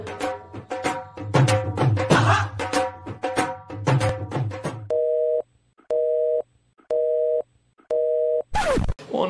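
Music plays, then cuts to a phone ringback tone: four evenly spaced electronic rings with silent gaps, and no one picks up.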